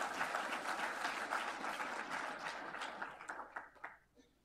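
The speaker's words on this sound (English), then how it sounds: "Yes, please, hand of applause." Audience applause at a medical school ceremony of thanks for a donated body program, a steady crowd of clapping hands that holds for several seconds and then thins into a few scattered claps.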